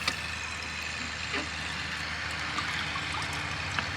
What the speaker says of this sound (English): Let the water fill up some more.